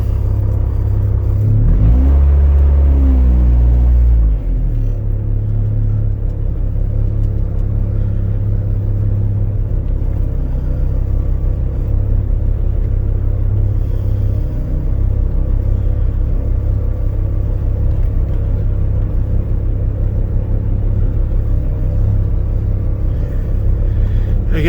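Saturn S-Series car fitted with a rear-mount turbo setup backing out of a garage, a loud engine rev at the start settling into a steady low idle rumble close by.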